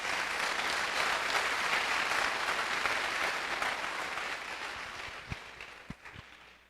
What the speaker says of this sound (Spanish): démosle un aplauso porque Dios está con nosotros